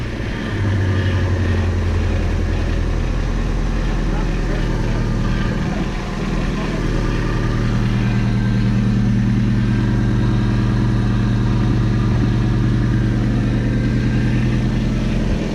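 A Honda Civic engine idles after sitting untouched for eight years, a loud, close, steady low hum with a shifting drone, and a voice can be heard over it.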